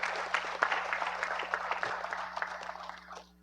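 An audience applauds schoolchildren at a Guyana national population and housing census launch event, a few seconds of moderate, dense clapping from a crowd of listeners that fades out at the end.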